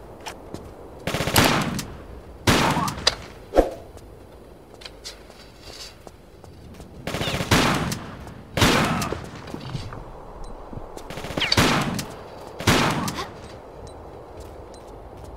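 Heavy gun fire in the Tomb Raider: The Last Revelation game, loud rapid bursts of automatic shots in several separate volleys, each burst ringing out briefly before a pause.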